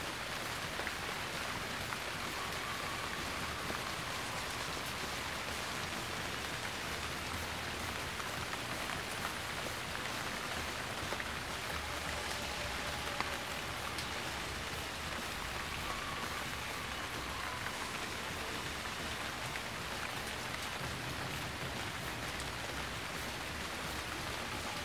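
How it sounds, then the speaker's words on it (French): Steady rain falls in an even, hissing wash, soft and continuous throughout with no voices or other sounds standing out. "Il pleut!"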